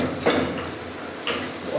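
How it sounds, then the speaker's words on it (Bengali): Food being stirred in a cooking pot in a hostel kitchen, a few soft scraping knocks of a utensil against the metal over a steady background hiss of frying, brief and fairly quiet. "আমি এখন এগুলো ঘাটতেছি, দেখতে পাচ্ছ"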